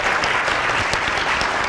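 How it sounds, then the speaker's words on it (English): Loud, dense applause from a symposium audience honoring panelists, steady and close, a continuous wash of many hands clapping. "I'd like to give one more round of applause to our panelists for participating tonight"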